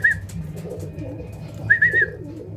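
A banded racing pigeon gives soft repeated coos close by, two short bursts of cooing separated by a pause, over a low background murmur.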